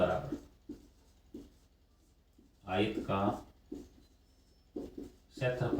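Chalk or marker writing on a board during a Class 9 math lesson on polynomials, short bursts of scratchy strokes scattered between a teacher's spoken explanation.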